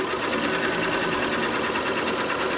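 A sewing machine runs continuously at steady speed, stitching around the edge of a colorful fabric placemat, its rapid needle chatter close and even with no pauses or voices.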